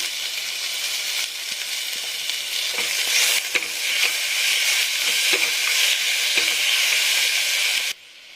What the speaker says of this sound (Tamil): இப்போ தக்காளி போட்டுருங்க. தக்காளி போட்டதுக்கப்புறம் கொஞ்சமாக உப்பு போட்டுங்க.